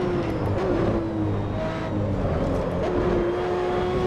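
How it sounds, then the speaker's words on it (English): Tyres spinning and squealing under a steady racing-car engine drone in Assetto Corsa, a street car without downforce losing grip on track, continuous and fairly loud with no talk. "You can hear the wheel spin there."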